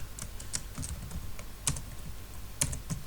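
Someone types on a computer keyboard while entering a name, producing quick, close key taps with a few sharper clicks over a steady low background hum.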